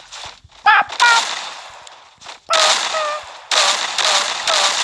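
A shotgun fires in a video game as a few sharp, loud blasts in separate bursts, each trailed by ringing and clinking sounds, with short quiet gaps between them.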